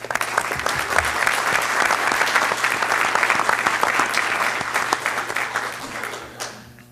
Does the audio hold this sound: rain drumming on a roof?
no